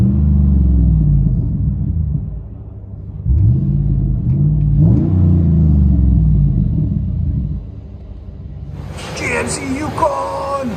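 Deep V8 rumble of a 2012 GMC Yukon Denali with a 6.0L engine and Flowmaster Flow FX exhaust, heard from inside the cabin as it rises and falls through several revs and shifts, with someone talking near the end.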